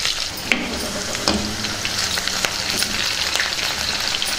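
Onions sizzle steadily in hot oil with tempering spices, a continuous crackling hiss with a few brief pops.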